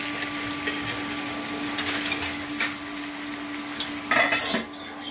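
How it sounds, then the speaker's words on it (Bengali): Gentle sizzling of lentil dumplings frying in a pan, with a steady hum and occasional clinks and scrapes of a spatula. "ডাল বড়িটা ফ্রাই করে নিন।"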